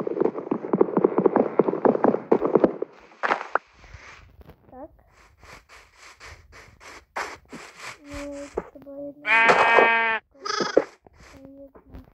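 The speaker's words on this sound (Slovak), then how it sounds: "Tam som už videl nejaké prvé ovce." Sheep bleat repeatedly in a crafting and building video game in survival mode, several nasal wavering calls near and loud, mixed with blocky footsteps and other game sounds.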